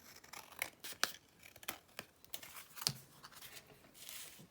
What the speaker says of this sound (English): Might just trim this edge slightly.